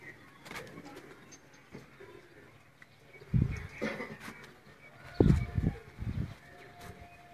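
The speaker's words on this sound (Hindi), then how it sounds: "तो दोस्तों ये मोतियों वाला कबूतर" A pearl-marked Sialkoti pigeon coos in short, soft repeated bursts, a few louder throaty coos near the end, with faint background noise and other birds.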